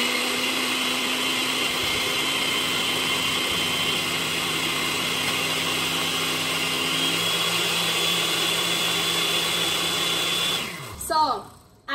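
A kitchen blender on its grind setting pulverizes eggshells into flour, a loud, steady whirring roar that runs unbroken for about eleven seconds before winding down abruptly at the end.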